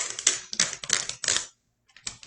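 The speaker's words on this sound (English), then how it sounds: "pull that tape" Adhesive tape pulled off its roll for an arts-and-crafts project gives four quick crackling rips, then a pause and a shorter final tear, close and fairly loud.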